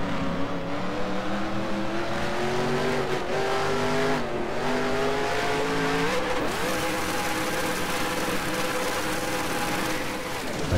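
A stock car in NASCAR Racing 2003 loads through the chicane at Watkins Glen, its loud engine note dipping and rising with the gear changes before it settles into a steady high drone, with faint tire scrub underneath.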